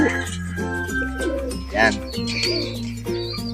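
Racing pigeons coo softly inside a loft under a man's conversational speech, their low burbling calls mixing with faint chirps close by.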